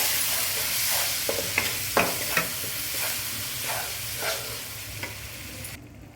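A frying pan of spice masala being stirred with browned onions, a steady close sizzle with repeated scraping stirs running throughout.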